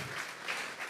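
A church congregation claps together in a short, steady burst of applause, a dense wash of hand claps that fills the room with no voices over it.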